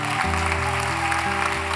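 A church congregation claps together in sustained applause praising Jesus, a dense steady patter that continues beneath sustained keyboard chords changing in pitch.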